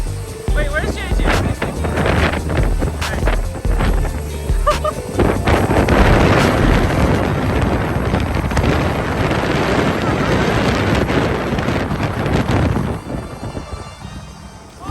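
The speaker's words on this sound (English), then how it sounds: "The wind outside was so crazy we thought we were gonna lose our hair" Strong outdoor wind buffets the microphone in loud, continuous low rumbling gusts for most of the stretch, easing near the end, while people talk underneath.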